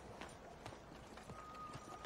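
A horse's hooves clip-clopping in Red Dead Redemption 2 Online, a faint quick run of hoofbeats under low game ambience.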